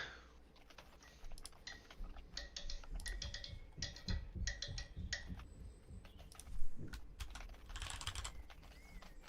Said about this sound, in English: Are you typing something, Ray?